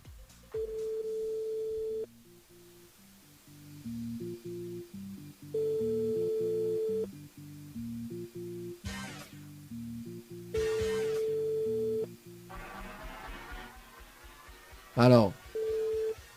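A radio show call-in line rings out: several long, even ringback tones separated by pauses, followed by a short beep, heard through the phone line with quiet studio background.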